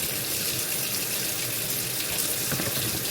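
A cup of water pours into a pot of rice, a steady splashing gush that runs continuously at close range and even loudness, with no talk over it.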